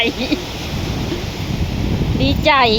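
Ocean surf breaking on a beach, a steady broad wash of waves with wind rumble on the microphone; a voice speaks faintly near the start and a brief bird-like or vocal chirp rises near the end.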